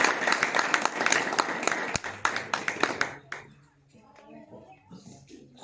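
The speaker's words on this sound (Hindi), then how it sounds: "उनका ताली बजा के स्वागत।" Villagers applaud in welcome at a village gathering in Mathura, a burst of steady clapping from a group that fades out partway through, followed by voices speaking.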